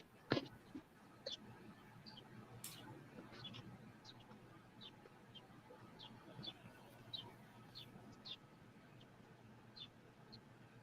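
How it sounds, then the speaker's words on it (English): Birds fighting in a tree outside a building, heard as scattered sharp chirps and squeaks over a faint rumbling background, with one louder snap early on, fairly distant and quiet. "these birds fighting"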